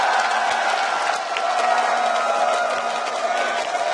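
A large crowd in an esports arena at a League of Legends Worlds quarterfinal keeps up a steady roar of cheering and applause, loud and sustained throughout.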